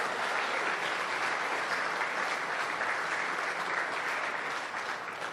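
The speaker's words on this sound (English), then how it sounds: "Let's give you guys a huge round of applause" Union workers in Windsor applauding at a Prime Minister's address, a broad, even roar of many hands clapping in a large crowd, steady throughout and tapering slightly at the end.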